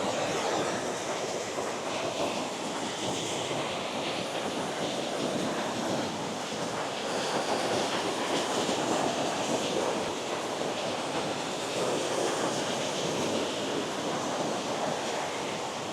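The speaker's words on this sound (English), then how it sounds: "It's just cascading water." Steady broadband rush of cascading water along the Cascade trail, a continuous roar with no breaks and no voices.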